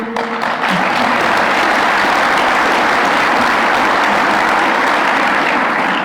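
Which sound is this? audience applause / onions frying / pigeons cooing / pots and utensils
audience applause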